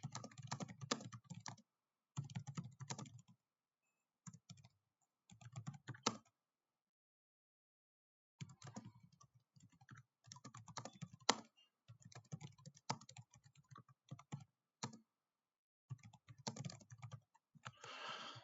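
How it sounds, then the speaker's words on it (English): Fingers type a question on a computer keyboard in quick bursts of close key clicks, separated by short silent pauses, with no voices. "we're going to type in that same question"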